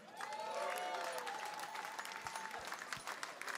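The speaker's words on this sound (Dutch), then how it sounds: "groot applaus." An audience at a Limburg carnival champions event bursts into warm applause, a dense patter of clapping with some cheering that carries on steadily through the short moment.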